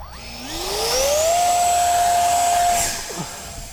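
Small Arrows RC T-33 model jet's electric ducted fan held at full throttle, a loud steady rising whine that spools up over the first second, holds high and strong, then drops away near the end, with no voices.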